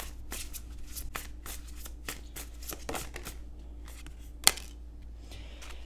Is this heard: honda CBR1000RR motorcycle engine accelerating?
no